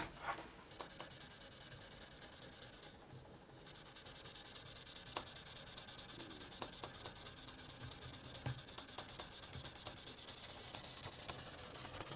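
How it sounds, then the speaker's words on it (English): Steel wool rubs back and forth across a guitar fretboard, making a soft, steady scratchy hiss close up, with occasional faint ticks and no talking. "You don't need a lot of steel wool, just a small piece. And start rubbing across the fretboard."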